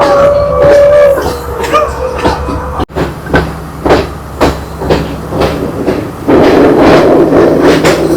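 A Sri Lankan passenger train on the Kandy to Ella line heard from inside the carriage, with steady rolling rumble and repeated rhythmic clickety-clack of wheels over rail joints, briefly dipping before a louder, rougher stretch near the end.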